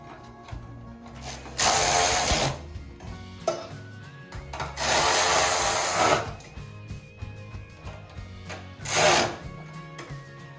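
A ratchet tightens 10mm mounting nuts on a Chevrolet Tahoe hybrid battery, three loud bursts of rapid clicking separated by pauses with small metallic handling noises.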